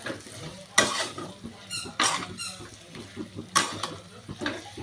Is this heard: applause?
no